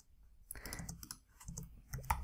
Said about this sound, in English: I just want to type something